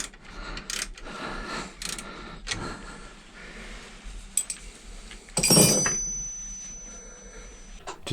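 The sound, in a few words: ratchet spanner tightening a car alternator belt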